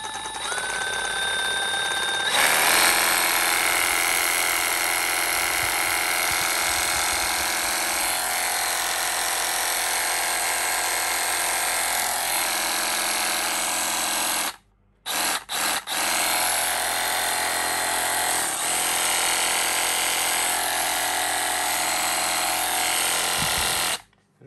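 A Milwaukee M12 brushless cordless reciprocating saw with a metal blade runs loud and steady with a harsh buzzing rasp, cutting through a padlock continuously, pausing briefly midway, then resuming until the end.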